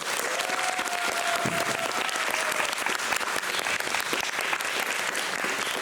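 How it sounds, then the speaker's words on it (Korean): Theatre audience applauding the cast at a post-show talk, sustained dense clapping throughout, with a faint tone briefly audible early on. "박수 부탁드리겠습니다"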